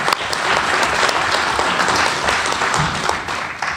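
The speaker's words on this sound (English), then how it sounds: "So let's give them a round of applause." A city council meeting audience gives a steady, loud round of applause for selected students, dense clapping filling the room throughout with no letup.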